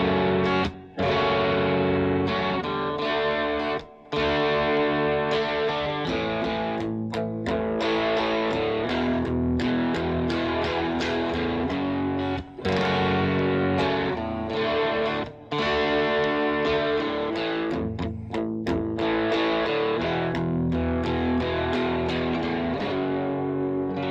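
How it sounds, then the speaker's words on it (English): An SX electric guitar plays through an amp's crunch channel, sounding continuously with gritty distortion as strummed chords and riffs run for about twenty seconds, broken by only a few brief gaps. "And onto the crunch channel."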